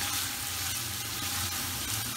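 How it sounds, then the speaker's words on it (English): Onions and crushed garlic fry in a pan for a beef pirashki filling, giving a steady, dense sizzle that holds evenly throughout with no voices. "we just want to cook this until all the onions have browned"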